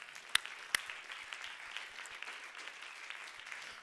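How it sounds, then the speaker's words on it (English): A church congregation claps during a sermon, a scattered, fairly faint patter of hands in a large room with a couple of sharper claps standing out near the start. "Can you clap your hands to the Lord for that?"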